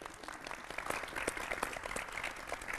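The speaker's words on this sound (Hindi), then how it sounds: "तालियां बजा दो।" Audience applause at a Hindi poetry gathering (kavi sammelan) in Haryana, a steady patter of many hands clapping at moderate distance for a few seconds, fairly faint overall.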